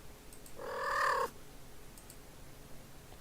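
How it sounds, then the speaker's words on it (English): A cat in a horror video game lets out one short, drawn-out tonal cry that rises and then cuts off, heard alone over a quiet, faint background. "Cat sounds."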